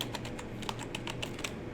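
Fingers type on a mechanical keyboard with RGB lighting, producing rapid, crisp key clicks in an uneven rhythm, close and moderately loud, with no talk.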